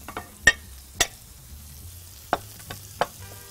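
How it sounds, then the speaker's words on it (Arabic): Rice is stirred in a frying pan, where a few distinct scraping knocks of the utensil stand out over a quiet, faint background sizzle, with no talking. "نبتدي نقلب الرز مع بعض"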